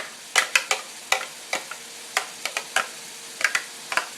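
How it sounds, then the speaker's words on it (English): Diced onion cooks alongside browning ground meat for sloppy joes, a soft low sizzle broken by a dozen or so sharp, irregular spatula clicks and scrapes against the pan, close up and without talk. "you want to cook that while the meat is browning so the onion will get soft"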